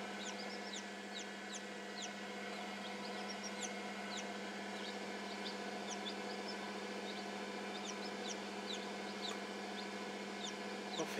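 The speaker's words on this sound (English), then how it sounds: "I hear your little chirps." Newly hatched chicks, about 45 minutes old, keep up a stream of high, thin peeps, scattered and overlapping, soft and close over a steady low hum, with no talking.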